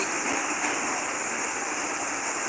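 Fast-flowing water rushes steadily beside the Marapi hiking trail near Nagari Aie Angek, a constant broadband roar with no breaks, fairly close and moderately loud.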